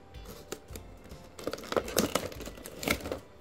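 Packaging for a Tamagotchi Angel Festival being unboxed: close crinkling and rustling of plastic wrap that grows busier partway through, with no voices.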